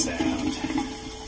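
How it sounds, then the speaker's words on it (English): Water runs and gurgles close by as a Thetford Tecma toilet bowl fills, with a bubbling, uneven flow that gradually eases. "you hold both buttons in until the water level fills just above the drain"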